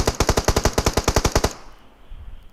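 Automatic gunfire in the video game PUBG Mobile: a fast burst of about a dozen sharp, evenly spaced shots, close and loud, then cuts off into quiet ambient game noise.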